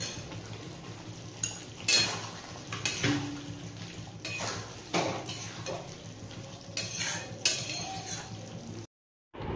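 Cookware clinks and scrapes as fried mixed vegetables are stirred into simmering gravy in a pan, with irregular utensil knocks against the pan over a low background.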